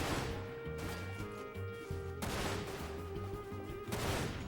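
Gunfire in the Dirge of Cerberus: Final Fantasy VII shooter game, with three loud, sharp reports spaced about two seconds apart over a steady game backdrop.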